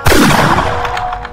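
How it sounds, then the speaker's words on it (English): Loud burst of rapid video-game gunfire from a Roblox shooter, a dense crackling volley at close range that trails off into scattered shots. "I'm shooting you!"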